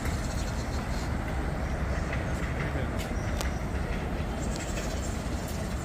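An Amtrak train passing through Harrison station, a loud steady rumble and rush of rolling wheels with faint rail clatter throughout.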